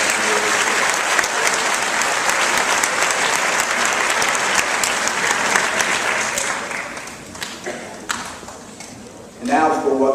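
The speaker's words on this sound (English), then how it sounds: "please give a round of applause" Audience applause at a community college graduation ceremony, a loud sustained burst of clapping from a large crowd that thins out toward the end, with a few scattered claps and a voice starting up at the close.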